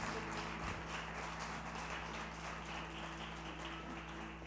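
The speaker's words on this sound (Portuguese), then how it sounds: "Dê uma forte salva de palmas para o Senhor" A church congregation claps together during a worship service, a dense, steady wash of applause filling the room for the whole stretch with a low hum beneath.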